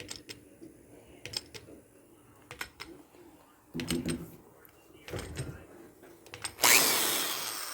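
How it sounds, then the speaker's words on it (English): Intermittent clicks and knocks give way to an antique electric drill whirring up loudly near the end, a dense high-pitched motor hum. "Listen to the precision of this drill."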